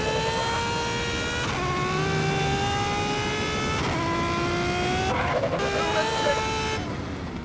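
A sport motorcycle engine in Grand Theft Auto: San Andreas with remastered high-quality sounds revs hard and steadily, its whine climbing then dropping at each gear shift, several shifts in a row.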